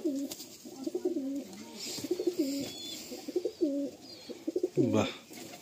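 A high-flying tournament pigeon coos repeatedly in close, rhythmic bursts, with brief pauses between calls and a louder flurry near the end.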